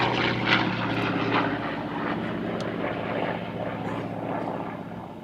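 A small propeller aeroplane with a 2,000 horsepower engine flies at an air show at Duxford, its steady loud engine drone holding throughout with a slight fade near the end.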